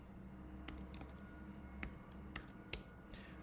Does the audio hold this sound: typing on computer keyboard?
yes